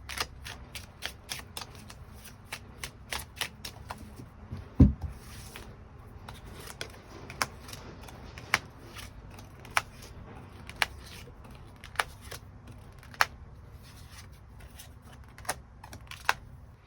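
Tarot cards are shuffled and drawn close by, with a quick run of crisp snaps and slaps followed by sharp, separate clicks spaced a second or so apart in a quiet room.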